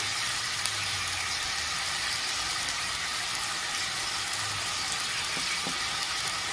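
Turmeric, chilli powder and chopped ginger masala frying in a pan, a steady soft sizzle with faint stirring, constant and fairly quiet throughout.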